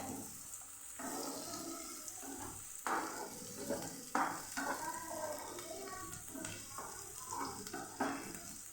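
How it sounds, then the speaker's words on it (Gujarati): A steady sizzle and crackle of capsicum sautéing in a hot pan, with occasional louder bursts as the food is stirred. "એને પણ સરસ આપણે સાતડી લેવાનું છે થોડી વાર સાતળશું એટલે આપણું કેપ્સિકમ પણ સરસ ચડી જશે"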